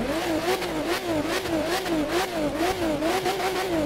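A Porsche Speedster engine in the game The Crew 2 bounces repeatedly off its rev limiter, a rhythmic stuttering buzz cycling several times a second with a synthetic, game-like tone.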